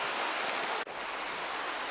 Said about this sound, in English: Just to show how much water was in the river after a month of dry weather